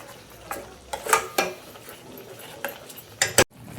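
Masala being roasted in oil in a pan for a soybean curry, heard as a few sharp spoon-on-pan scrapes and clinks spaced irregularly over quiet, with one louder knock near the end.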